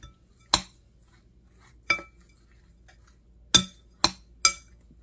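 A spoon clinks against a bowl while stirring a salmon croquette mixture seasoned with Old Bay: five sharp, separate clinks at irregular intervals, close and clear over a quiet background.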